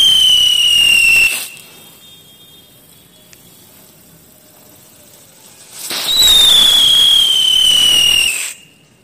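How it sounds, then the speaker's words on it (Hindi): Two bursts of a spinning Cock brand whistling wheel firework, each a loud hissing roar topped by a piercing, slowly falling whistle, separated by a few seconds of quiet. "कॉक ब्रांड की विस्लिंग वाली व्हील्स की।"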